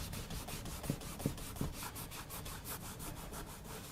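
An old cotton t-shirt rubs back and forth over an axe head in a quiet rhythmic scrubbing, soft brushy strokes repeating close by with a few faint knocks early on.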